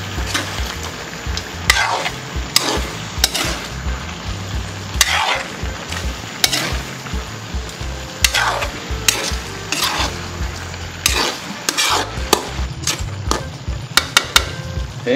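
Frog meat sautéing in a pan: steady loud sizzle with repeated scraping stirs at an irregular rhythm, close by, no talk.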